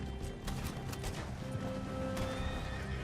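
Horse in Red Dead Redemption 2 neighs and whinnies over a steady clip-clop of hooves, with game ambience and music underneath, all fairly loud and continuous without talk.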